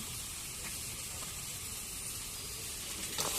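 Fried chicken pieces dropped into a pan with green chillies, giving a steady, moderately loud sizzle and hiss that holds throughout.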